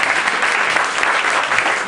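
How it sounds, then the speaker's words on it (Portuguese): An audience applauds at a lecture on legislation and ethics, a loud, dense burst of clapping from many people that stays steady for its whole short length, with no voices on top. "Então, aplausos aí."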